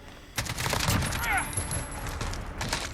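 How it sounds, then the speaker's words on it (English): An RPD light machine gun fires in Call of Duty Modern Warfare as a rapid, sustained burst of close gunfire lasting about two and a half seconds, with small metallic clinks and a brief high whine over it. "This is the RPD machine gun."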